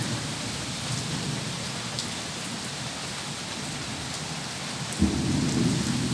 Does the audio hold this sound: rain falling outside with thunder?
yes